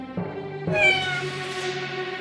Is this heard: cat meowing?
yes